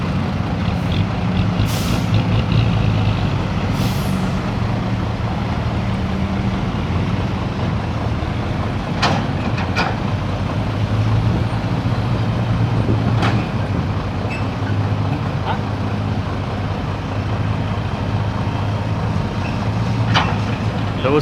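A heavy ten-wheeler truck rumbles steadily on a narrow road, its loud engine drone continuous, with several short hissing bursts like air brakes and occasional sharp clanks.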